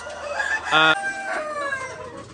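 White Leghorn hens cluck and call close by, with one short loud crow-like squawk in the middle, alone without talk.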